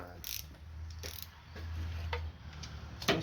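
Ratchet loosening valve cover bolts on a 1968 Pontiac 400 engine, giving faint, quick clicking bursts with low mechanical hum underneath and one sharper clack near the end.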